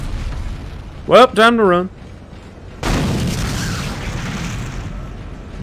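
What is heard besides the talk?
explosions in video game Dead Space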